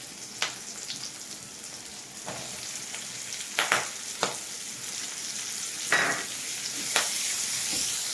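Onions sizzling in a hot pan for a rustic chilli chicken made without sauce or cornflour, a steady frying crackle broken by several louder bursts as the pieces are stirred, close up with no voices.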